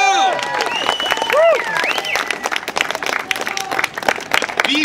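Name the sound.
audience applause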